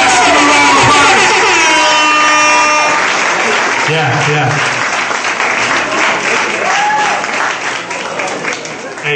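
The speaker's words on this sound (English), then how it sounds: "give him a round of applause." Loud crowd applause and cheering erupt at a Grammy nomination party, strong at first and gradually thinning, with voices and music mixed in.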